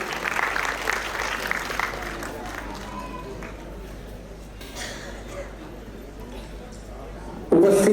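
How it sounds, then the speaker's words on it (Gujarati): An audience applauds to welcome a guest at the Swachhata Hi Seva 2025 award and honour ceremony in Bhavnagar, clapping that starts fairly strong, then thins and softens beneath voices. "આપણે સૌ તાળીઓના જોરદાર ગુંજારોથી તેમની ઉપસ્થિતિ અને એના અભિવાદનને વધાવીએ."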